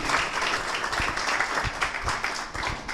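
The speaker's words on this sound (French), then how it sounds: "Je vous demande encore d'applaudir le PDG" Audience applause for the CEO at the official launch of a rehabilitation centre in Artibonite, a dense, steady patter of many hands clapping close by for the whole stretch.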